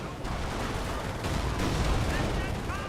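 German MG42 machine gun fire during a Company of Heroes match, sustained dense gunfire and battle noise held at a steady loud level throughout, with a voice partly under it.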